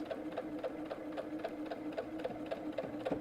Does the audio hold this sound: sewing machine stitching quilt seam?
yes